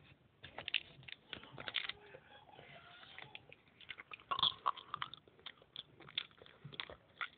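Someone chewing stale Sgt. Pepper's bubble gum from 1978, close up, with irregular wet biting and crunching clicks spread across the clip, fairly quiet, no speech.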